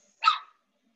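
A pet dog indoors lets out a single short bark, sharp and moderately loud against an otherwise silent room.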